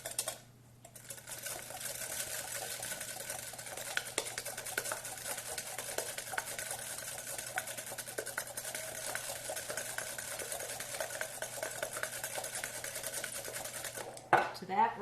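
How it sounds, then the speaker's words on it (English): Three large eggs beaten in a bowl until smooth, a steady fast whirring and rattling that runs nearly continuously at close range, stopping near the end. "3 large eggs goes in this. And we're going to beat that just a bit until it gets smooth."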